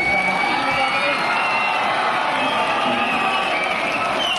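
An audience at a school felicitation for teachers claps continuously with cheering and shouts, a loud, dense crowd sound throughout.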